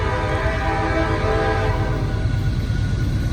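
A heavy freight train climbs a hill while sanding the rails, its horn sounding a sustained, loud multi-tone blast over the deep rumble of the locomotives, with no voices.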